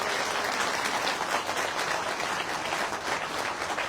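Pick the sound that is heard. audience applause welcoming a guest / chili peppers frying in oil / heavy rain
audience applause welcoming a guest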